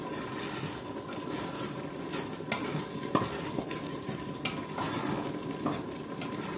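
A vegetable mix with onion and garlic is stirred in a frying pan: a steady close sizzle runs throughout, with repeated scraping and clinks of the utensil against the pan.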